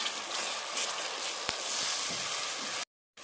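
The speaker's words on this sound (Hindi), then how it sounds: "ये 200 ग्राम मेरे पास टमाटर थे और इनका मैंने पेस्ट बना लिया था, ये इसमें मैं डाल दूँगा" Steady, loud sizzling of tomato paste hitting a pan of frying ginger, garlic and green chillies, a continuous hiss that cuts off abruptly near the end.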